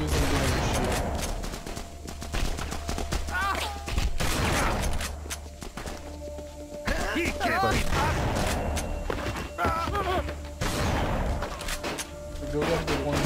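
Gunfire in The Punisher video game at a meat packaging plant, repeated loud shots and bursts mixed with game voices and other speech.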